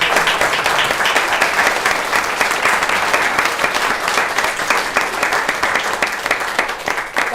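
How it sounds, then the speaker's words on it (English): A room full of people applauds standing teachers and school administrators, with loud, dense, continuous clapping that stays even for over seven seconds and has no talk over it. "and we'll applaud you too"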